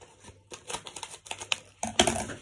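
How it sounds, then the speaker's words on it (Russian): Drain cleaner granules rustle and patter down through a sink drain pipe in irregular bursts of dry crackling ticks, growing denser and louder toward the end. "Слышите, что пошло сразу? Шуршание такое."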